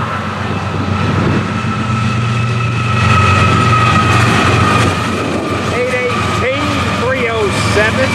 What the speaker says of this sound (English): train, you betcha